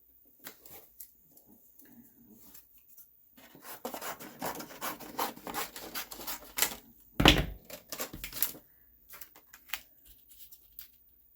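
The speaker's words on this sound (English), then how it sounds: "So let me trim this paper off." Craft paper being trimmed at a card-making desk, a dry scraping, rasping run of cuts with a few sharper clicks in the middle, close and alone.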